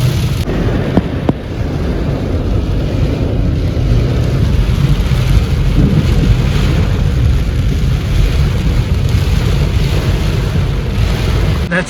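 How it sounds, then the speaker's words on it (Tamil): Heavy rain pours down in Mecca, Saudi Arabia, in a loud, dense, unbroken roar that fills the whole stretch. "மழை சரியான மழைங்க அடிச்சு ஊக்கிட்டு இருக்கு"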